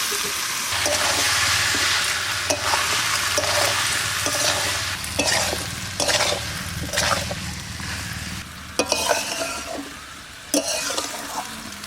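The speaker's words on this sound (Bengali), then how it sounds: "এবার দিয়ে দেবো ভেজে রাখা আলু।" Fried potatoes and jackfruit pieces being stirred into a frying curry, a constant sizzle with repeated scraping and clanking strokes of the spoon against the pan, close and fairly loud.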